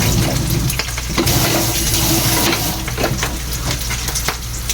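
Pork and fish frying in a large amount of oil for a quick home lunch, a loud, steady sizzle and crackle that runs the whole time with some stirring and clatter mixed in.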